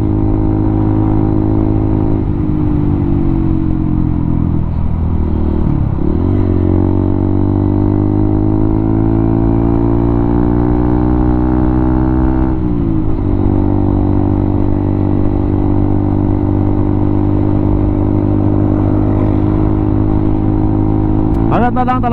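A motorcycle climbs uphill on a solo ride near Pagadian, Zamboanga del Sur, with a close, loud, continuous engine drone. The pitch dips and rises as the rider shifts and throttles.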